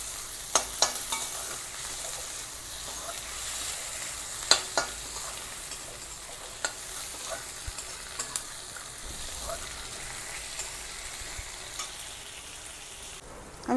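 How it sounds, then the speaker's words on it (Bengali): Chopped tomato frying with soybean chunks and potato, giving a continuous soft sizzle with scattered clicks and scrapes of stirring throughout, close and steady with no talk. "দিয়ে এটা দিয়ে একটু নাড়াচাড়া করব।"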